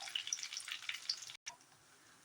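Mustard seeds and cumin crackle and spit in hot oil for a lemon rice tempering, a faint, brisk popping fizz that breaks off briefly and then returns more quietly.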